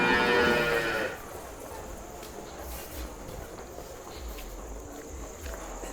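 Buffaloes and cattle on a farm give a single deep, loud low at the start. Quieter farmyard background noise follows and continues to the end.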